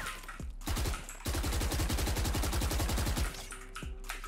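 Sustained rapid gunfire from a Valorant match on the Ascent map, shot through a wall: a dense burst of automatic fire lasting about two seconds, loud and close, with single shots just before and after.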